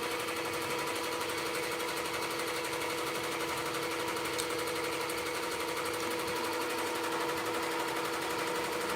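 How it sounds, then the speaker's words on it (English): An embroidery machine stitching automatically at a market vending event, a steady, loud, continuous rapid needle rattle holding an even level throughout with no pauses. "Now it can go on automatic and it can just stitch out."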